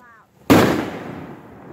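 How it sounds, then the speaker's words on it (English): Fireworks shell exploding outdoors at a Thanksgiving gathering, a single loud sharp bang that hits hard and then rolls off in a long fading rumble and crackle. "Serious bang on that shell."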